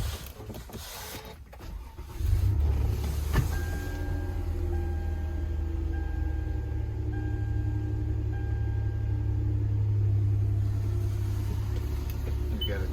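A 2014 Toyota Sienna XLE minivan with a VMI NorthStar power side-entry conversion starts at about two seconds, then settles into a steady low, smooth idle that continues close by to the end.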